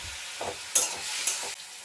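Chopped onion frying in a pan for a Bengali fish egg curry, stirred with a few scraping strokes over a soft, steady sizzle, close and fairly quiet.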